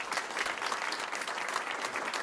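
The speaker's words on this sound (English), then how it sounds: "can we give a very good round of applause to Dr. Raju?" Steady round of applause from a summit audience, fairly quiet and distant-sounding, even clapping with no speech over it.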